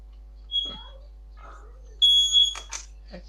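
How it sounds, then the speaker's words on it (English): A household smoke alarm gives sharp, high electronic chirps, a short one and then a longer double burst, loud and near, with people talking quietly in between. "Sorry, my smoke alarm."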